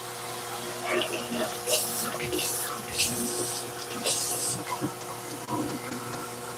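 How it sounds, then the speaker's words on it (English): Water runs from a kitchen sink tap during cleanup after cooking, a steady splashing flow broken by clattering bursts of dishes being rinsed, moderately close. "I'll just get rid of the stuff in the sink."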